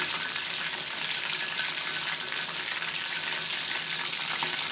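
Chicken pieces deep-frying in hot oil for chilli chicken, a steady dense sizzle and crackle that holds evenly from start to finish, close and fairly loud, with no voices over it.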